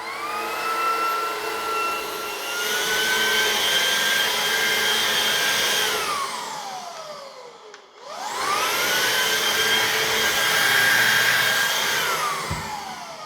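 A Shark Wandvac handheld vacuum cleaning creatine powder off a black carpet roars with a high whine, dips in pitch as it strains and briefly stops, then revs back up loudly.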